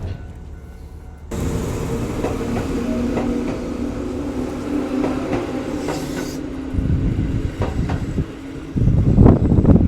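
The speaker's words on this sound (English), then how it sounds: "the train going to the other direction is here" A small one-man local train arrives at a quiet rural station in Saitama, Japan: a steady rumble and hum with rhythmic wheel clicks builds close by for most of the stretch, then louder braking and rolling noise swells at the end.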